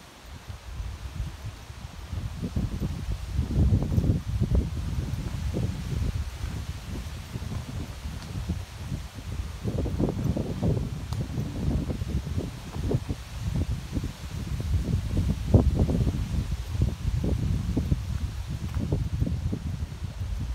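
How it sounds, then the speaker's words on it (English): Steady gusts of wind rush through leaves in Witton Park, Blackburn, swelling and easing in waves with a constant low roar, loud and close throughout. "Tell you what, that wind's picking up today."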